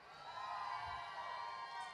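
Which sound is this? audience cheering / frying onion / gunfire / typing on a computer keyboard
audience cheering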